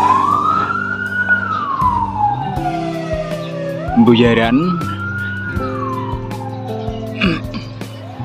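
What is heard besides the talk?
ambulance siren passing near an underpass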